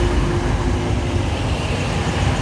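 A TransPennine Express Class 185 passenger train rumbles steadily close by as it pulls into York station, a dense low roar with a faint mechanical whine above it.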